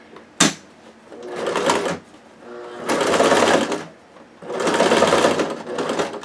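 A sewing machine runs a big zigzag stitch along dress seams in three bursts of steady whirring, each lasting about a second or more, after a sharp click at the start.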